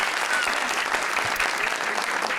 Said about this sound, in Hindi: ढेर सारी तालियां फॉर दिस अमेजिंग टैलेंट।